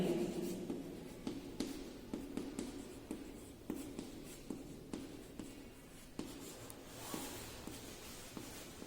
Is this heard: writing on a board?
yes